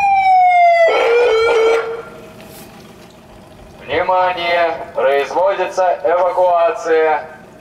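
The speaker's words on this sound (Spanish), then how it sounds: "escuche cómo las sirenas sonaban ahí en Rusia" A siren wails with a smooth descending sweep for about two seconds, then a second siren warbles in rising and falling cycles, loud and close, in Russia.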